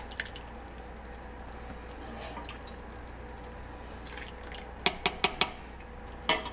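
Risotto being mixed in a pot, with soft wet squishing and low scraping that builds into a rapid series of sharp utensil knocks against the pot near the end, close and fairly quiet.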